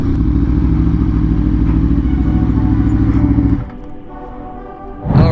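An Aprilia RSV4 sportbike ridden on a street, its engine a loud, steady drone that drops to a lower idle-like rumble for a moment and then surges again near the end.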